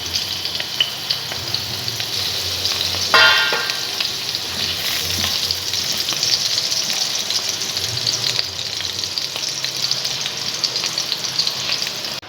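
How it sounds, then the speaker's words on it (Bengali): Potato pieces fry in oil in a frying pan over a gas flame, giving a loud, continuous crackling sizzle that holds steady for a long stretch, with a brief scrape of stirring early on. "তেল দিয়ে আলুগুলো আগে ভেজে নিই"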